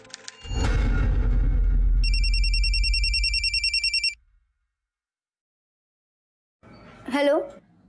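A telephone rings in a steady electronic warble for about two seconds over a loud, booming low rumble; the rumble cuts off, silence follows, and a short voice comes in near the end.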